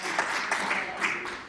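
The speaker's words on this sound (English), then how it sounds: "I would like to ask all members of this legislature to join me to applaud the efforts of Kathleen and Barbie" Members of a legislature applaud in the chamber, a steady wash of many hands clapping at moderate loudness, continuous throughout without voices.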